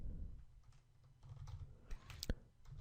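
Rapid clicking of keys on a computer keyboard as code is typed, a steady close patter of keystrokes with one sharper clack near the end, over a low background hum.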